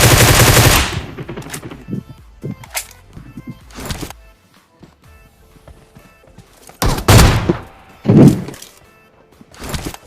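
Loud, sharp AWM sniper rifle gunshots in the video game BGMI ring out at intervals, each with a booming tail, separated by quieter stretches of faint background noise.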